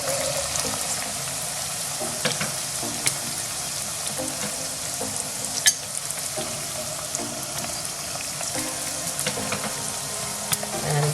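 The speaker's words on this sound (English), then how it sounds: "I'm gonna put the onions now." Chopped onions fry in a hot pan for a Bengali fish curry, giving a continuous loud sizzle with occasional scrapes and clinks of stirring and faint kitchen sounds in the background.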